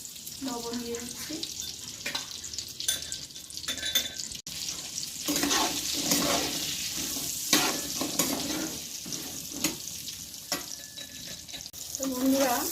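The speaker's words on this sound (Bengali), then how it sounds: "আস্তে আস্তে আমি পটল আলু ভালো করে একে একে ভেজে নেব" Pointed gourd and potatoes fry in oil in a wok, a close, steady sizzle broken by repeated scraping stirs and clinks that run throughout without pause.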